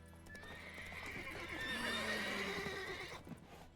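A horse in The Witcher 3 video game gives a long, clear whinny over a steady clip-clop of hooves, close and alone, with the neigh trailing off near the end.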